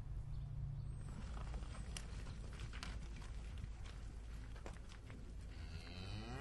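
Cows on a dairy farm on the Isle of Man, where milking is automatic, low and near, with barn clatter and faint background noise, and no talking.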